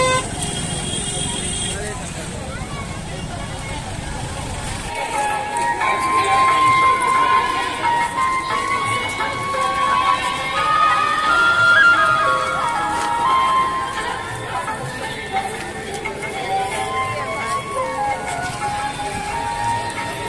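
Sunday crowd at Koslyamata temple in Raipur, with a constant murmur of many voices and moving people, plus a few vehicle horns and tones in the mix, and someone speaking nearby.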